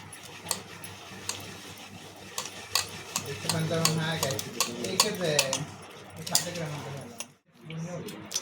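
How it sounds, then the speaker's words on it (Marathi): Flour is stirred into milk in a bowl for ghevar batter, making repeated scraping and clinking stirring sounds at close range while a person talks over them. "एकत्रित मिक्स करून घ्यायचे आणि आपण थोडा मैदा यामध्ये ॲड करून घ्यायचा आहे"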